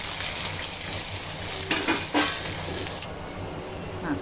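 Onion and tomato go into hot oil with cumin, garlic and curry leaves and sizzle in a pan, a steady close frying hiss broken by a few brief stirring scrapes.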